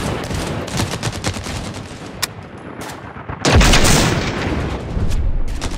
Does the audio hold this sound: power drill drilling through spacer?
no